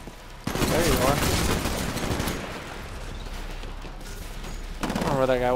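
SMG fire in a Titanfall campaign battle comes as rapid continuous bursts amid a noisy combat scene, with other effects and some voice-like sounds mixed in.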